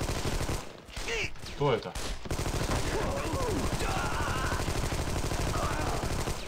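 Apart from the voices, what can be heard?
gunfire in the video game Armed and Dangerous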